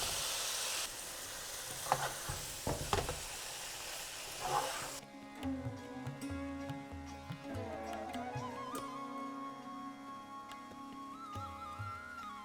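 Paneer frying in a jalfrezi pan, a soft steady sizzle with a few stirring scrapes, faint and close, which gives way to quieter sizzling under background music.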